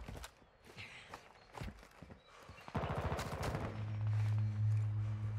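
Scattered gunfire in Call of Duty: Warzone, several sharp shots in quick irregular bursts mixed with footsteps and game effects, ending in a louder low rumble.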